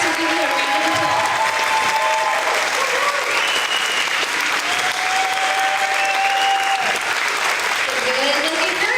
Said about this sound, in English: our parents will give you a round of applause